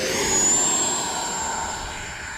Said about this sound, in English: we'll go back to flaps up and we'll take off